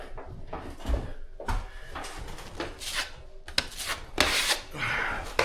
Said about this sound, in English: 3 swipes on the screws